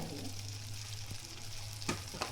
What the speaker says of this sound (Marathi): आता कढीत थोडं तेल गरम करा त्यात मोहरी घाला चटक असा आवाज येऊ द्या